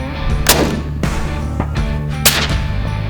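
Two sharp, loud reports from a Mossberg Patriot LR Tactical rifle in 6.5 PRC during an outdoor pronghorn hunt, each cracking hard and echoing briefly over a steady low rumble.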